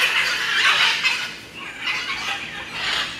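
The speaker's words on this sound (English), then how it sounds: "But they're the yellow and blue parrots." Loud, harsh squawks from blue and yellow parrots at a mall in Trinidad come in repeated bursts, the screeching calls rising and falling close by with no talk.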